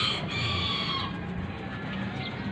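Gamecocks let out for their morning exercise, a dense steady chorus of clucking and crowing from many birds close by, loud and continuous with no talking.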